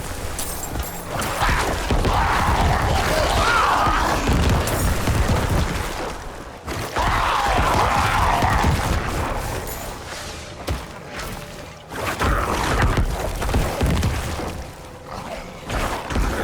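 Dense bursts of force explosions from Diablo IV combat, with thuds, crackles and whooshes piling into loud surges that break off briefly and then resume, with no speech.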